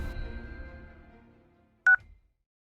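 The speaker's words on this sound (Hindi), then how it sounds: "कॉल कर इंस्पेक्टर साहब को।" A telephone keypad gives a single short, sharp dialing beep after a low rumble fades into near silence.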